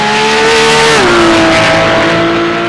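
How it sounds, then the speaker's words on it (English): A Porsche safety car on an Imola race circuit roars loudly as it accelerates, its engine note steady and close, with a single gear shift midway. "Dave Coleman in the Porsche Bay 21 safety car tonight, ripping its way back to the pit lane"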